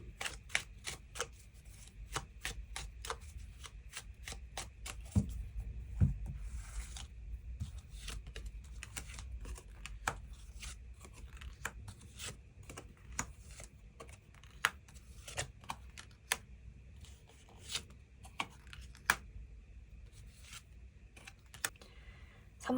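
Tarot cards shuffled and drawn by hand at close range, a long run of crisp flicks and snaps in uneven bursts over a soft low rustle, with no talk.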